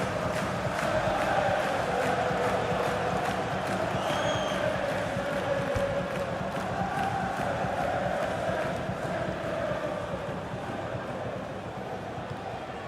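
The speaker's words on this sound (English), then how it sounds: "he's getting some stick from the crowd, and you can understand why" A football crowd at a Crystal Palace v Manchester City FA Cup fourth-round match in FIFA 17 jeers after a missed chance, a sustained rumbling wall of noise with rising whistles and shouts, fading slightly toward the end.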